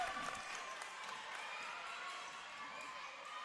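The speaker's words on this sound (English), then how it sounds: "This crowd is very loud here." A loud crowd cheers and roars steadily throughout a women's basketball grand final between Bulleen and Camberwell, a dense wash of noise with a commentator talking over it.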